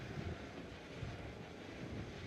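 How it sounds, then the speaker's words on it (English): A HAL light utility helicopter flies a display at Aero India in Bengaluru, a faint, steady engine and rotor drone with wind rush and soft low thumps. "The light utility helicopter"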